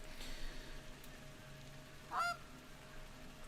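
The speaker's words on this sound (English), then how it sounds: "I hear geese." A single goose honk from a hunting video game, a short clear call in the middle of the clip over a quiet, steady ambient background.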